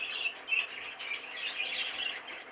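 Breeding birds in an aviary squawk and chirp repeatedly, shrill, bright calls rising and falling in irregular bursts, fairly close and alone with no talking.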